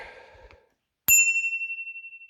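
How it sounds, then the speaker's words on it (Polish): A bicycle bell gives a single bright ding that rings out and slowly fades, loud and close, after a short stretch of quiet rustling. "oczywiście dzwonek"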